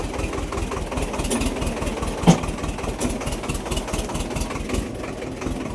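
A tractor engine idles nearby in mud with a steady low chugging rumble, a brief knock standing out midway.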